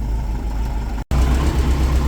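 A car engine with 40/44/48 IDF carburetors and a modified fuel pump idles steadily with a low, throbbing, lumpy pulse, loud and close, broken by a brief dropout midway.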